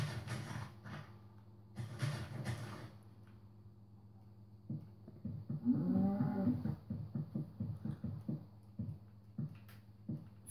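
A Minecraft cow moos several times in a deep, drawn-out voice, with a steady low hum running underneath throughout.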